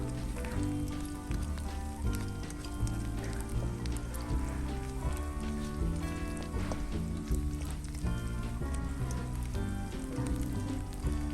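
Dried chilies hitting hot oil with onions frying in a pan for a horse gram curry, a steady close sizzle and crackle running throughout beneath background music.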